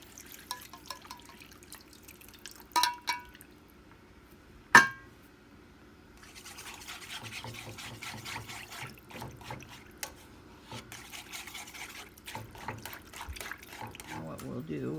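Broth is poured into a pan for Welsh rarebit, a soft trickling, dribbling splash that runs steadily through the second half after a few sharp clinks, close and moderately quiet.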